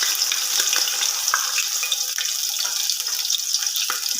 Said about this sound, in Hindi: अब इसमें मैं 2 टीस्पून जो है वो लहसुन अदरक का पेस्ट ऐड करूँगा